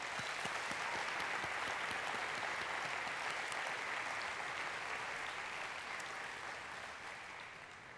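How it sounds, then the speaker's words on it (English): An audience at a LinkedIn Talent Connect keynote in Las Vegas gives a round of applause, a dense, steady wash of clapping from a large crowd that slowly fades toward the end. "Please have a round of applause for all of them."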